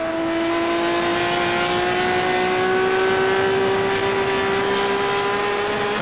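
A 1993 Honda NSX race car heard onboard at Spa-Francorchamps holds a loud, steady engine drone at high revs, its pitch creeping slowly upward through a fast corner, close and unbroken with no talking.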